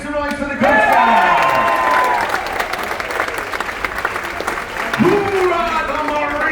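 A cruise ship audience aboard Royal Caribbean's Voyager of the Seas cheers and applauds for the Coast Guard, a loud, sustained burst of clapping and whoops from a large crowd, with shouts and a host's voice rising over it.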